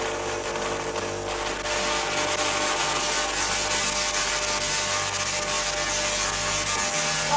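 Tesla coil discharging as its power is brought up, a loud, harsh, continuous buzzing crackle with dense broadband noise that holds steady throughout.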